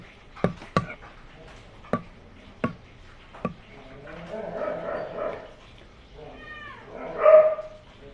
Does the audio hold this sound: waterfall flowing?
no